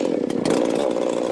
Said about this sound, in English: The saw for the job? A W.F. Myers diamond belt saw.